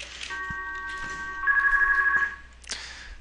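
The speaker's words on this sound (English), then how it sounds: "Ignore that phone." An indoor telephone rings with a steady electronic trill lasting about two seconds, then stops, with a faint rustle afterward and no talking.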